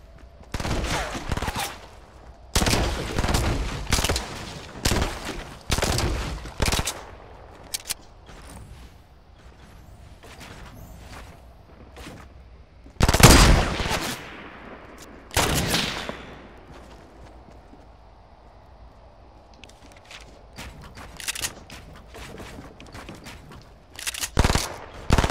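Bursts of gunfire in the video game Fortnite, with several rapid volleys early on, a loud blast midway and scattered shots toward the end, heard alone without talk.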